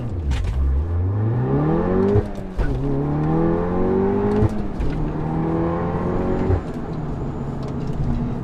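APR Stage 2 tuned VW Golf R launching hard from a standstill, engine climbing through several gears with rising revs, brief dips at each shift, loud and close from inside the car.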